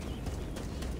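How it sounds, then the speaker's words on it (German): Hooves of a horse clip-clop in the Assassin's Creed Odyssey video game, a quick steady patter over a thick low rumble of game ambience. "Wir können ein Pferd nehmen."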